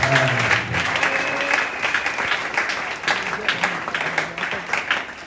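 An audience at a church service in Brazzaville applauds for the children, giving sustained, dense clapping that stays loud throughout before thinning slightly toward the end.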